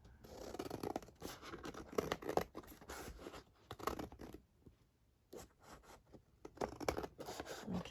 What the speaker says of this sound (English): let's cut it out against here.